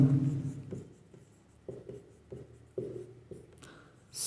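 Marker or chalk strokes on a board come in short, separate scratches and taps, close and fairly quiet, with a voice briefly at the start.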